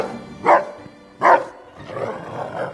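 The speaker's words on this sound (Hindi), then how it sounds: "कुत्ते भौंक रहे थे।" Dogs bark at night, two loud separate barks about a second apart, then rougher, lower growling barks trail off, set against quiet surroundings.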